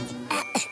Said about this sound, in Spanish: ¡Tantos mosquitos!